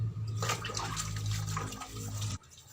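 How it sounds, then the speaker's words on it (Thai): Tap water runs steadily while shellfish are washed in a sink, a close continuous splashing stream with small clinks of shells, ending abruptly as the flow stops. "ระมัดระวังนะคะเวลาล้าง ก็แค่นี้เนาะ ล้างหอย"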